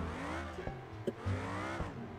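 A car in the driving simulator BeamNG.drive accelerates with a steady engine drone whose rising harmonics show the revs climbing, plus a few brief knocks along the way, with no voices.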